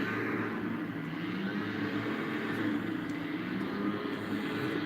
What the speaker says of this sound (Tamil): ஃப்ளைட்டு வந்தது, இறங்குன்னு நினைக்கிறேன்.